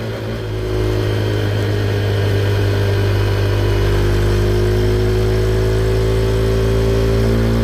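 KTM Duke 390 motorcycle cruising along a road, its engine a steady loud hum with a low note rising gradually in pitch as it accelerates, wind rushing throughout and no one speaking.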